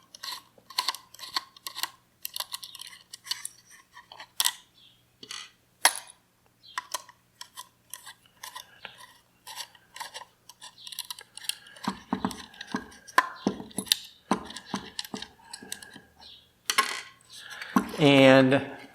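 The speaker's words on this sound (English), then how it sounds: "and you can just take those screws out" Small screws come out of the motor housing of an Electric Eel Wheel 6.0 spinning wheel, giving scattered close metallic clicks and light clinks, with occasional rattles and a brief voice near the end.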